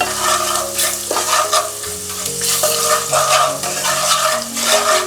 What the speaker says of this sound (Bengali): মশলাটাকে একটু তেলের মধ্যেই নাড়াচাড়া করে নিচ্ছি।